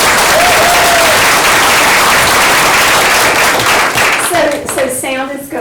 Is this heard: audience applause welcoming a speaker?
yes